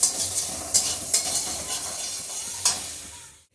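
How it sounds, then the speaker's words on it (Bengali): Ground cumin fries in a pan as pumpkin and taro pieces are stirred through, a soft sizzle broken by a few sharp scrapes before it cuts out. "জিরের গুঁড়োটাকে একটু ভালোভাবে ভেজে নেব। তার সাথে আমি দিয়ে দেব মুখি আর কুমড়োর"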